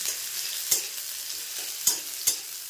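Onions frying in a pan for a home-cooked Bengali winter dish, a steady broad sizzle with a few sharp stirring clicks at irregular moments, close and fairly loud, no voices.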